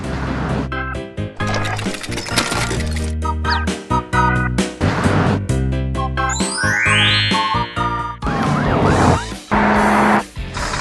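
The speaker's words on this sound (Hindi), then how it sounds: "जैसे ही सायरन की गूंज सुनाई देती है" A wailing police car siren sweeps up and down amid loud, busy music with chiming tones, staying prominent throughout.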